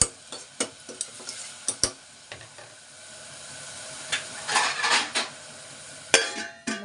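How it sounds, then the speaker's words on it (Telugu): A spoon stirs mutton and chana dal curry in a metal pot just after coarse salt goes in, with repeated close clinks and scrapes against the pot over a soft sizzle. "దీన్ని అయితే ఇలా కలుపుకొని దీని మీద మూత పెట్టుకుందాం."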